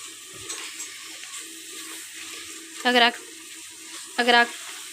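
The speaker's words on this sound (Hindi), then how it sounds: "हमारे मसाले अच्छी तरह भुन गए हैं।" Spices and masala for kaleji masala frying in a pan, a steady soft sizzle with two short scraping stirs near the end.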